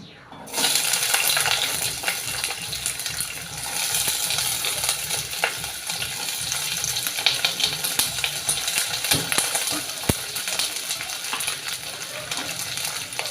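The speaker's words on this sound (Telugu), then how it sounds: "నెక్స్ట్ అదే ఆయిల్లోని మనం తరిగి పెట్టి ఉంచుకున్న దొండకాయ ముక్కల్ని వేసుకోవాలి." Chopped ivy gourd pieces dropped into hot oil, the same oil used earlier for frying peanuts, for a spicy stir-fry: a steady, close, dense sizzle and crackle that runs throughout with occasional stirring clinks, no talk.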